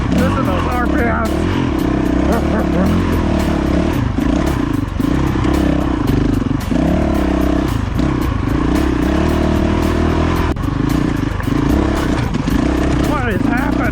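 A dirt bike engine revs loudly and close on a trail at Skull Valley, with rough rising and falling engine roar and clattering, and people talking over it.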